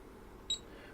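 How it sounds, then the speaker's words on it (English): A multimeter gives a single short, faint continuity beep during electronics repair work on a Keithley 237 source-measure unit, a brief high tone against quiet background hiss. "This is why I like multimeters that beep,"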